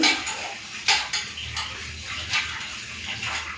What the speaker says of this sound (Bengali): প্রথমে ডাল আর চালটাকে ভালো করে ধুয়ে নিই